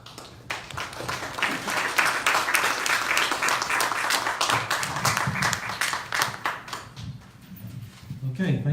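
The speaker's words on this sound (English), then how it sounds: "I will ask if we can all hold applause until the end" Applause from the audience at a Chesterfield candidate forum, a dense, moderately loud burst of clapping lasting several seconds before thinning out, with a voice talking over the tail.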